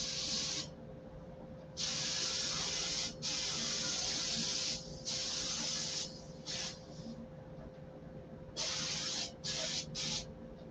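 A spray gun applies a tack coat to a SIG Magnum trim model in a series of hissing bursts of varying length, separated by short pauses, over a faint steady hum.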